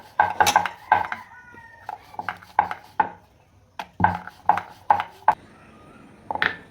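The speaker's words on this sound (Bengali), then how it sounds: "এবার আমি রুটির মতন বেলে নেবো গোল আকারে।" A rolling pin works potato patty dough flat and round on a board, giving a steady series of close knocking taps and rolling thumps in an uneven rhythm, with no speech.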